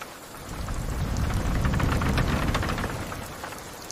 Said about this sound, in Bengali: বৃষ্টি, বৃষ্টি আসছে। হ্যাঁ ফারহান, দেখ কি সুন্দর বৃষ্টি পড়ছে